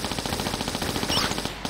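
Rapid Uzi fire in the Tomb Raider 1 remake game as rats are shot in a cistern level, a dense rattling burst of shots that runs steadily through the whole moment and cuts off near the end.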